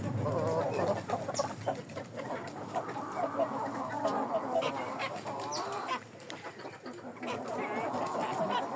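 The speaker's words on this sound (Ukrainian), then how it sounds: "Це такі два півника, там дві курочки." Two young roosters and two hens in a backyard coop cluck and chatter continuously and fairly close, with overlapping calls and soft rustling.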